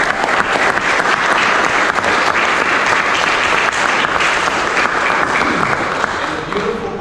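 An audience indoors at a county building event breaks into loud sustained applause and cheering, a dense wall of clapping with shouts that fades slightly at the end.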